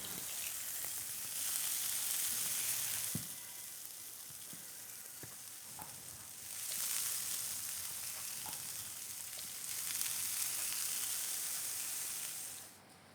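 A dough pie for a feta cheese skillet pie fries in oil in a skillet. It gives off a steady, close sizzle that swells and fades in long waves, with a few soft clinks and no voices.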